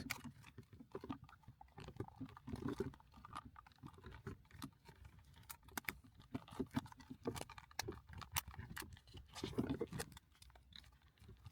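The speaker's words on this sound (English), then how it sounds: "You should just hear those satisfying clicks" Crisp plastic clicks and small snaps of a new shift boot fitting into place on a 2012-2018 Ford Focus shift knob repeat irregularly at close range, with some rustling handling noise in between.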